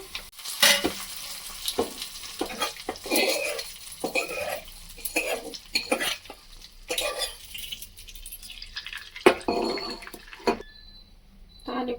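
Tempering for village-style tomato dal, with bursts of sizzling hot oil and spices in a pot, interspersed with stirring and utensil clatter, coming in short irregular surges and pauses.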